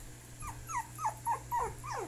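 A dog whimpers in a run of short, high, rising whines, five or six plaintive cries in quick succession, close by with a low steady hum behind.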